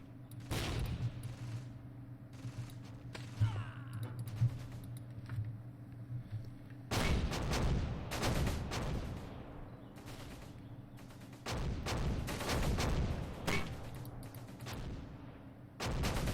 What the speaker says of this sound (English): There we go, the howitzers are shooting now.